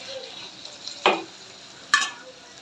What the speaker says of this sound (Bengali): শুকনিগুলো নাড়াচাড়া দিয়ে দিলাম